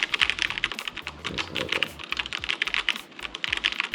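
Fingers type steadily on a portable Bluetooth-only keyboard used for travel, producing a quick, dense patter of close clicky keystrokes with small pauses, and no voices.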